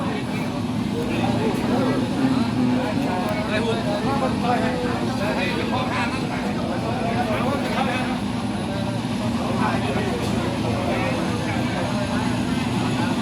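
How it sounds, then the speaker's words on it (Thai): Helicopter sits running before takeoff, giving a steady, loud rotor and engine drone that holds throughout, with people talking over it. "เฮลิคอปเตอร์กำลังใกล้สิขึ้นแล้ว"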